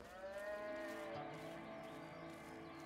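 A cow lets out a long, loud, drawn-out moo close by, filling almost three seconds without pause, with no talking over it.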